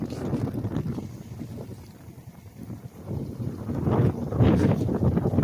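Steady wind rushes and buffets the microphone outdoors during a pigeon release, with low rumbling gusts that swell louder toward the end.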